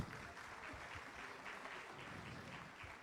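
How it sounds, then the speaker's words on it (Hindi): Applause from a crowd at a Congress party rally about the MGNREGA job scheme, a faint, steady patter of many hands clapping heard from a distance. "जोरदार तालियां बजाओ भाई"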